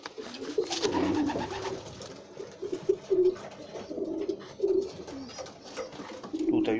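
Pigeons cooing in a breeding loft, including young squabs, with repeated low throaty coos in uneven bursts, fairly close and continuous throughout.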